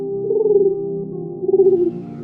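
A dove coos in an animated Urdu children's story. Two soft, low, rounded coo phrases are heard alone and close by, each lasting about half a second, with a short gap between them.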